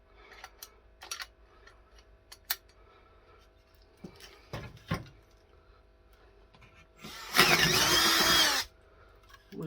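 A hole saw bores through wood, clogging with sawdust and running warm, in one loud, close burst of about a second and a half, set among scattered clicks and handling knocks in an otherwise quiet workshop.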